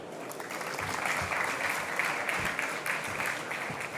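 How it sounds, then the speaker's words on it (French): Audience applause at an innovation trade show in Paris, a steady sustained clapping from a hall full of people, fairly even in loudness for the whole stretch with no voices standing out. "Je vous demande de l'applaudir bien fort."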